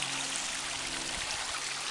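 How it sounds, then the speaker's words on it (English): A small creek emptying into the Allegheny Reservoir rushes steadily as close, continuous broadband flowing water with a soft gurgle, no voices. "So this is one of the creeks that's emptying into the Allegheny Reservoir."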